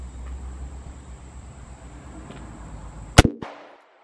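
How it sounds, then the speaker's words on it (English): A single sharp gunshot from a Taurus Judge Model 513 revolver fired at clay targets outdoors, a loud close crack followed by a short echoing tail, with steady insect-like background noise beforehand. "Well, I do like shooting this revolver, that's a fact."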